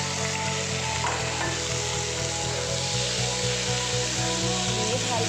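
Fish and tiyah (cucumber) fry with onions in a hot pan, a steady loud sizzle with stirring and scraping of a utensil running through the whole stretch.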